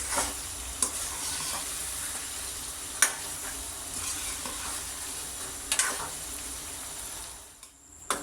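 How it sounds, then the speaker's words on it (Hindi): Chicken makhani karahi being stirred after garam masala is added, with a steady sizzle and a few sharp scrapes and clinks of the spoon against the pan, close and without talking. "यहाँ हम ऐड करेंगे गरम मसाला और अच्छी तरह मिक्स कर लेंगे।"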